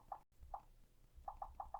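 Soft, quiet electronic bops from a phone keyboard, six short taps, one alone, then a quick run of four.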